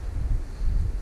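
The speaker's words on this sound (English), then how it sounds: "Wind's got up a bit, it's a bit colder now." Gusty wind on the open fellside of Hallin Fell buffets the microphone in a low, steady roar that swells and eases twice, loud and close, with no voices.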